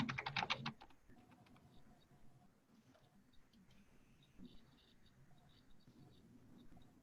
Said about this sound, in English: It's probably going to take me like 2 tries to get my password correctly.